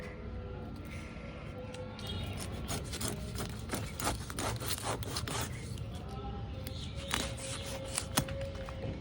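A knife saws and scrapes through a large hilsa fish, cutting it into pieces with repeated rough rubbing strokes close by, while people talk over the cutting.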